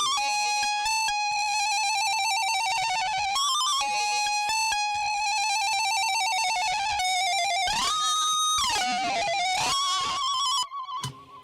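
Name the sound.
synth lead playing vocal melody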